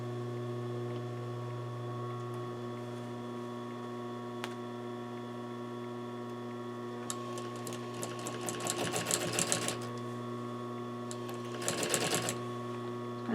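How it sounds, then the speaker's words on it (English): A sewing machine stitching quilting lines into a high-loft bench cushion, a steady hum with bursts of rapid mechanical ticking as the needle runs, then stops and starts again. "I'm going to show you how I stitch in these quilting lines."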